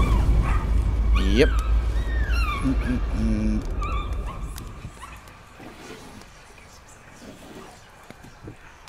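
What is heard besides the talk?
dog barking in the video game Layers of Fear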